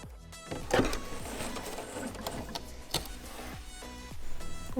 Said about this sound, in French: je vais faire la surpiqûre sur ce côté-là et non sur ce côté-là